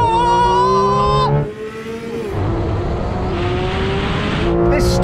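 Two Porsche 911 GT3 models, the 992 GT3 and the 991 GT3 RS, launch side by side in a drag race. Loud, close engines climb hard in pitch, dip briefly at a gear change, then keep pulling through the run.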